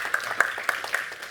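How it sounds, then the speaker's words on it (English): Audience applause at a blockchain tech talk after a first-time public speaker, a few sparse distinct claps standing out over a soft background. "please give a round of applause for Philip"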